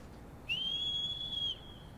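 A rising then steady high whistle in Shadow of the Colossus, sounded to call the horse, holding clearly for about a second over a quiet background.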